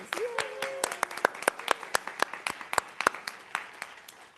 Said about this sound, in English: Round of applause for our graduate division winners.